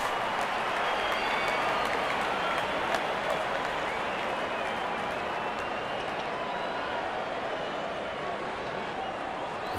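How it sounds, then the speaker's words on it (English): A large cricket crowd at a 2012 T20 World Cup match between India and Afghanistan cheers and applauds, a dense, steady roar of clapping and voices held at full volume throughout. "Crowd is enjoying every bit of this action."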